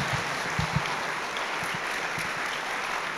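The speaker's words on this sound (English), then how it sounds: "So let's give them one more big round of applause." Audience applause at a guide dog graduation ceremony as the graduates leave with their dogs: a soft, even patter of clapping from a crowd, fairly faint and steady, with a few low thumps early on.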